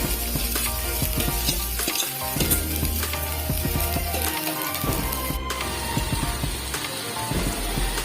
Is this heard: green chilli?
yes